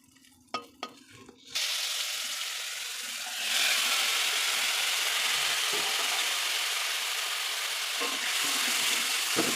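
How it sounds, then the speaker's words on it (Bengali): Potatoes frying in a pan, a few soft knocks first, then a sudden loud sizzle that swells and holds steadily, with occasional faint stirring taps and no talking. "এবার আলুটা ভাজা হচ্ছে।"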